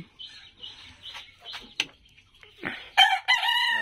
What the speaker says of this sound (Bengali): এগুলো হচ্ছে জাপানি ব্ল্যাক টেল জাতের মুরগি, ওরা ডিম দিয়ে রাখতেছে।